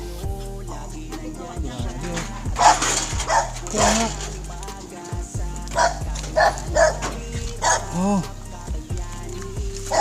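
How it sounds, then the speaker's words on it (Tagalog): An angry dog barks repeatedly in sharp, loud bursts with whimpering yips between them, close by, while people converse in Tagalog around it. "Galit na naman yung aso."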